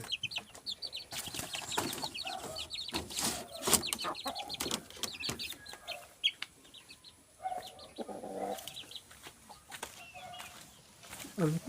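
A hen clucks in short repeated bursts close by, with scattered chirps and bird calls, rustling and intermittent knocks around a farmyard.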